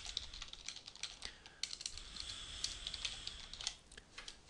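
Rapid typing on a computer keyboard with an uneven, continuous rhythm of crisp clicks, close and fairly quiet, with no voices.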